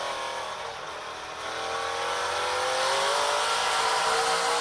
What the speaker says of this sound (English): Listen to him just feed a little bit of that throttle, get that car turned, get it halfway straight, and push that throttle pedal on down.